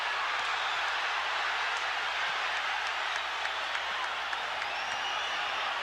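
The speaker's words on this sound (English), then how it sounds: "Crowd lights up as Gołota lands a combo" Boxing crowd at a heavyweight bout roaring and cheering as a combination lands, a dense, steady wash of crowd noise with scattered claps, no clear voices over it.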